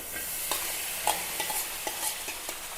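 Meat added to a hot pan for a Kerala-style meat dish, a soft steady sizzle with light stirring clicks and taps, close by, no voices.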